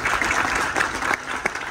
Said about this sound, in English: Big round of applause for some of our fursuiters.